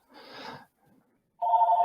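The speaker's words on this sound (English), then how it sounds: "That's the other phone in the background." A second telephone rings in the background of a home office: a faint muffled burst, a pause, then a clearer steady electronic ring tone starting near the end, with no talking.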